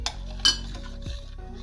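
Sodhi, a coconut milk curry, being stirred in a pot with a metal spoon, a few close clinks and scrapes against the pot over a soft background; no talking.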